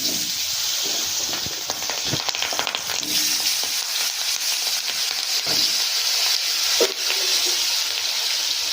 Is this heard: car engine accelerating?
no